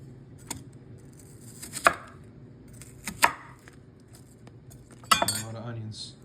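A knife chopping onions on a cutting board while salmon dinner is prepared: a few sharp, separate cuts spaced a second or more apart, close by, under quiet background and occasional talk.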